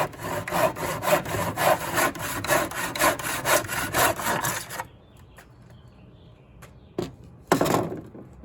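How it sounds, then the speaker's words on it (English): Hand saw stroking back and forth through a wooden picture frame in a miter box, a steady rasping rhythm for about five seconds, then quiet with a few knocks and a short scrape near the end. "we'll start cutting out the miters"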